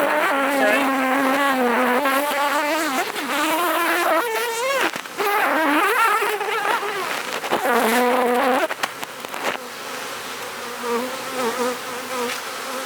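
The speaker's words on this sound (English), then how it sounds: "I like to shake most of the bees off" Honey bees buzz steadily and close around a hive frame lifted from a colony, a loud droning hum that wavers in pitch throughout.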